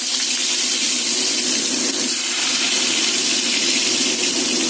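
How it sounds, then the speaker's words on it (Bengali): Potato pieces fry in hot oil for a light bhetki fish curry, making a loud, dense and continuous hiss of sizzling close by, with no voices. "এবার এই আলুগুলো দিয়ে দেব।"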